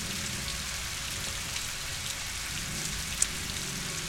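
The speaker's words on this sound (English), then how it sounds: "Even though she's in the rain, she still looks awesome." Steady rain pours in a Rise of the Tomb Raider game scene, a dense even hiss of drops on surfaces with no voices, broken only by one brief sharp tick near the end.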